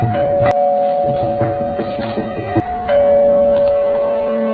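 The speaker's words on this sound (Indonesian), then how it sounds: "Tiba-tiba bel berbunyi dan Usku pergi untuk melihat siapa orang yang datang." A doorbell rings inside a home in a drama film, a sustained electronic chime tone heard loudly over a busy background of voices and music.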